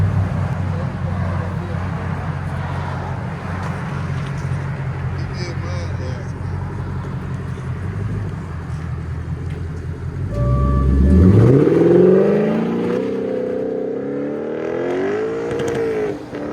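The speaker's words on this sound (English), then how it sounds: "Time for another drive off with Dynomax race bullets and rear delete" A 2015 Lexus RC F with a 5.0-litre V8, Dynomax race bullets and a rear delete on 2.5-inch pipe, idling with a low steady rumble, then revving hard and accelerating away with a rising, loud exhaust roar that holds as it pulls off.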